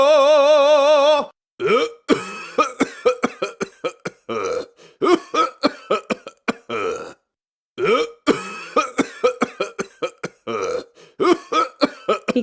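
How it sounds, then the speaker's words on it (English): A video game character in the indie adventure game Memoranda coughs hard in a long run of harsh, rapid, choppy bursts with short gaps, loud and close, following a brief tonal sung note at the start. "He coughs so hard that I don't think he can talk at all."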